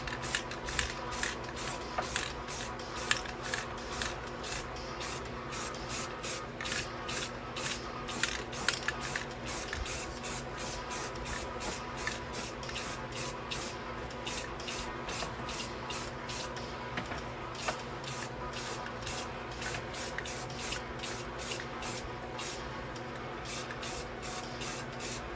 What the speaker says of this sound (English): Let's go ahead and do a coat.